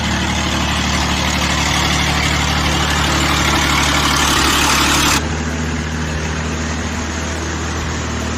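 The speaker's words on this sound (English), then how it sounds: "the URAL off-road vehicle crosses the swamp like an indomitable warrior" A URAL off-road truck with big wheels and a powerful engine labours through a swamp, its heavy diesel drone steady and loud throughout with broadband churning noise that drops away partway, leaving the engine rumbling on alone.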